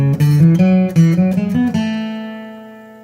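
Bluegrass flatpicking on acoustic guitar, one measure of the traditional tune Monroe's Hornpipe: brisk, evenly picked notes climb through the phrase before a last note sustains and fades, played solo and up close.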